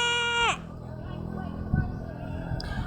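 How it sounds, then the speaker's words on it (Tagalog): A goat gives a single loud, wavering bleat that drops in pitch at the end, then quieter outdoor background noise and faint activity follow. "Kambing."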